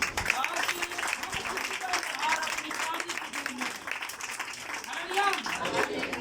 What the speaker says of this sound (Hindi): सबसे पहले तालियां बजाएं